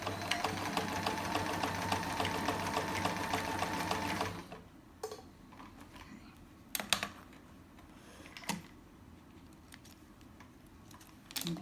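A sewing machine stitching fabric for a chair pouch runs loud and steady for about four seconds, then stops; quieter clicks and brief mechanical bursts follow as the machine is adjusted.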